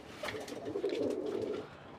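A short-beaked male pigeon gives a soft, low coo in one short rolling phrase, faint and close, with no speech.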